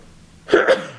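A short, sharp sneeze bursts out close by after a moment of near quiet, with a quick second puff of breath right behind it.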